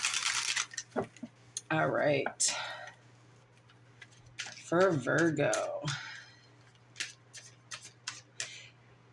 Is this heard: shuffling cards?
yes